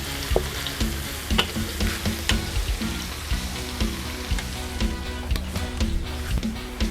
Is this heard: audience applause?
no